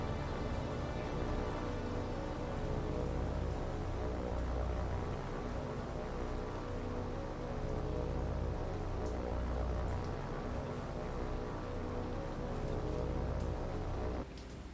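Steady rain falls in the WWII naval strategy game War on the Pacific, a dense, continuous hiss of drops that runs unbroken and evenly loud before cutting off near the end.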